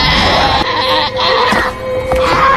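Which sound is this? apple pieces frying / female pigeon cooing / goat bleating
goat bleating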